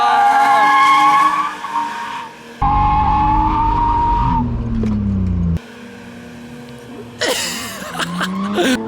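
BMW E30 fitted with individual throttle bodies drifting on a track, engine note rising and falling as the throttle is worked, with tire squeal and shifting engine tones, heard moderately close.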